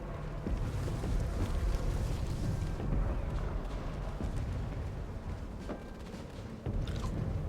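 Aircraft flyover in the video game Sniper Elite 5, a loud, continuous low roaring rumble with a jet-like rush that swells and holds for several seconds, broad and dense without distinct beats.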